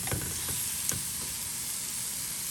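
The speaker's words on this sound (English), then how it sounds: "transfer the meat to the pan. Go ahead and put them both into the pan." Pork chops sizzle in hot oil in a pan, a steady close hiss and crackle with a few brief pops near the start, no voices.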